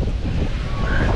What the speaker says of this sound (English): Look at the white caps, Diane.